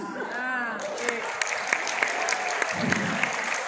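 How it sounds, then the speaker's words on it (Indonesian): Loud, steady audience applause fills the room at a health talk, a dense wash of clapping with a few sharper claps standing out throughout, and a voice briefly heard beneath it. "tepuk tangannya keras banget."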